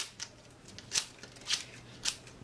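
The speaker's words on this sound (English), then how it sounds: "it's just regular scissors to cut the media part into the garbage" Ordinary scissors snipping the media disc of a floppy disk, four crisp cuts spaced roughly half a second apart, close and fairly quiet, with no talking.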